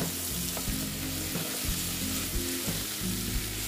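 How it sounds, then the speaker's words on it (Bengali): Soybean chunks and potatoes fry in a pan with a steady, close sizzle, broken by a few sharp scraping stirs of a spatula at regular intervals. "আলুর সঙ্গে এগুলো আবার ভালো মতন ভেজে নেব, কষিয়ে নেব"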